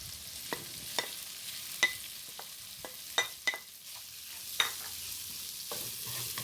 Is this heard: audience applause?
no